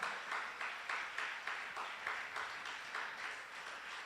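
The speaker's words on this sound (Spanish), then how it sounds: "Dele el aplauso fuerte al Señor" Steady applause from a church congregation, rhythmic clapping in regular pulses that continues throughout.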